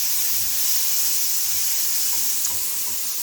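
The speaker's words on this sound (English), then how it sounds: "I'm going to put about a teaspoon of garlic in the saucepan, and I'm just going to saute that until it becomes translucent." About a teaspoon of minced garlic sautés over low-medium heat in a saucepan, giving a steady, soft hiss and sizzle that runs unbroken throughout with no talking.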